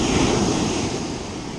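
Ocean surf at sunset during a striped bass blitz, with waves breaking and washing in as a loud broadband roar, steady then easing slightly, mixed with some wind rumble.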